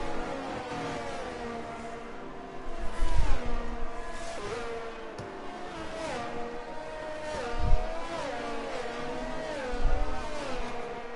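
F1 22 race start at Monza: a field of Formula 1 cars revving at high pitch with rising and falling engine notes overlapping, steady and fairly loud with occasional low thumps.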